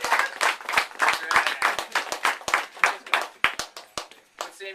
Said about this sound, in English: Everybody give them a big round of applause because they all look awesome.